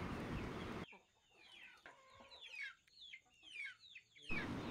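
Native country chickens cluck and chirp in a short run of calls, some rising and falling, close by at moderate volume, framed at both ends by brief bursts of louder noise.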